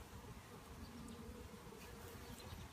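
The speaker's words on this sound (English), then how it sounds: "There are quite a few bees on 7 because that was the frame that the pollen patty was on." Honeybees swarm densely over a wax frame from an open hive, their buzzing a steady, continuous drone that hums on close and unbroken throughout, with no voices.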